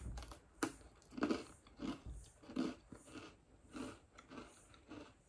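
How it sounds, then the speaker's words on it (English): Crunchy ginger biscuit chewed close to the mic, a run of about eight rhythmic crunching bites with crisp cracks between softer chews, no talking. "Good crunch, very gingery."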